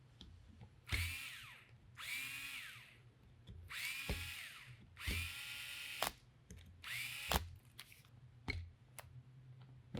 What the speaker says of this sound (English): We tighten it down.